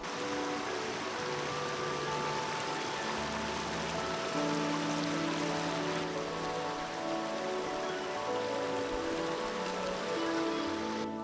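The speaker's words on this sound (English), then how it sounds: "as much as I don't like hiking in the rain, it was about time we got some" Steady rain falls while hiking in New Zealand's Nelson Lakes area, a dense, even hiss of drops on surfaces with a low rushing undertone, continuous and fairly close for the whole stretch, with no voices.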